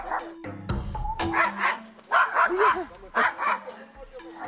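A small dog yips and barks several times close by, in short irregular bursts, while someone talks over and between the barks outdoors.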